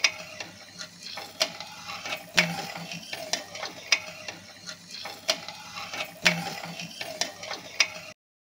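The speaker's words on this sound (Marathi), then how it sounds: "आता आपण त्याच्यामध्ये आवळ्याचा रस ओतून घेऊ आणि आपण हे सर्व मिश्रण ढवळून घेऊ।" Amla juice and sugar mixture stirred in a pan over a fairly high flame: a spoon scrapes and knocks against the pan in a steady repeating rhythm, close and fairly quiet, with faint bubbling beneath and no talk.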